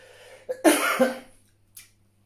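A person gives a short, harsh cough, a quick catch then one strong burst trailing into a smaller follow-up, close and alone in a quiet room.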